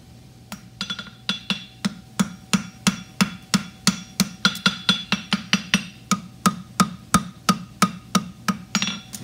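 A hammer forging a horseshoe on an anvil, sharp ringing metallic blows in a quick steady rhythm, some doubled, close and loud, with no talk.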